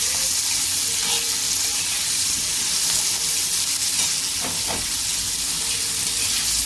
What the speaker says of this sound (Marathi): आता हा कांदा लाल होईपर्यंत चांगला भाजायचा